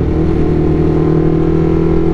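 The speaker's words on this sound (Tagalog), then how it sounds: "Tricycle, oh." A tricycle motor passes on a mountain road, a steady close, loud engine drone with low rumble and buzzing harmonics holding through the whole moment.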